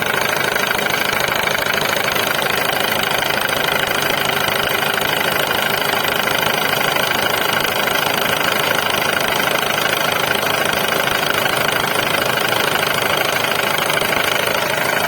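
A homemade air compressor engine runs steadily and loudly, a constant dense knocking drone that holds for the whole stretch with no pauses.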